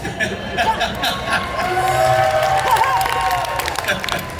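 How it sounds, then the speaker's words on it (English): Audience at a fan convention panel clapping and cheering, a moderate crowd of claps and whoops with chuckling mixed in, under amplified voices talking. "Clap for that"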